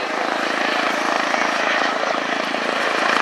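A helicopter flies at the RAF Cosford airshow, its rotor blades chopping in a fast steady thrum with engine whine, loud and continuous at moderate distance.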